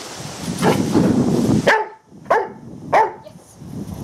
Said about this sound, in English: He doesn't want to bark, or he doesn't know that he needs to bark.